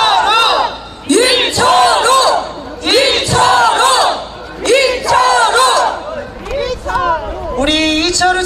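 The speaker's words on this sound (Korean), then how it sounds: "여러분 다시 한번 큰 함성으로 외쳐주십시오" A crowd at an outdoor election campaign rally for a provincial governor candidate in Gyeongsan, South Korea, roaring and cheering in repeated loud bursts, with chanting and shouted voices rising and falling across the crowd.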